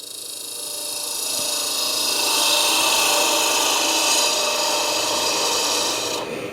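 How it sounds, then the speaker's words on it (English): A gouge cuts into wood while hollowing a tulip bowl on a lathe, producing a continuous close rasping, hissing shear that swells in loudness and then eases off near the end. "I'm already beginning to watch the backside as I use my gouge"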